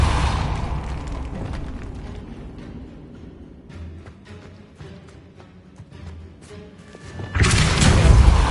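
The Depulso spell is cast in Hogwarts Legacy, with a loud burst of force that opens the clip. Quieter thumps and clatter follow, then a second strong rushing blast near the end.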